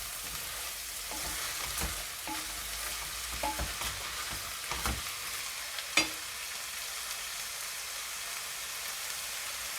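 Lentils stirred in a cooking pot with a faint steady sizzle, soft scraping and a few brief clacks of the spoon against the pot, including one sharper knock; no voices.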